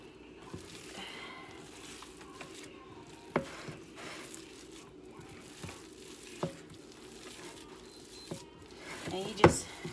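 Soft squishing and faint scraping as chopped onion is worked by hand into ground venison for Salisbury steak, quiet and close, with a few sharper knocks.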